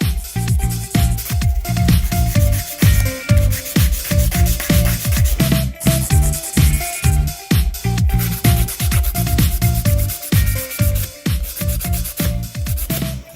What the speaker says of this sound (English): usually I'm filing like this on my own for accuracy